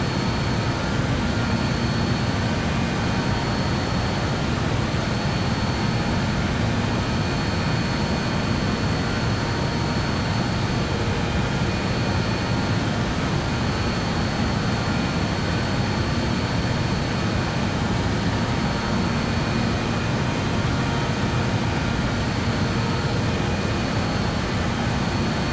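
Airliner jet engines in Microsoft Flight Simulator 2024 roar in a steady, dense drone during the climb, loud and unbroken throughout with no talking.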